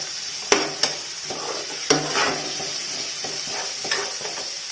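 Onions sautéing with salt in a pan for a Kerala chicken stew, a steady close sizzle broken by several sharp scrapes and taps of a spoon stirring against the pan.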